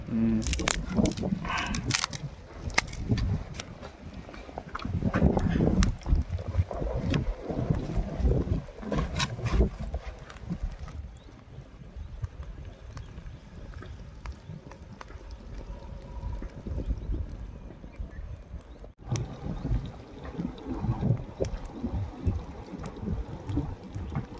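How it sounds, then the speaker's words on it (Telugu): Gusty wind buffets outdoors on a hill in low rumbling bursts, strongest early on, with people talking intermittently over it while cooking over a fire. "గాలి కొట్టేస్తుంది కదా"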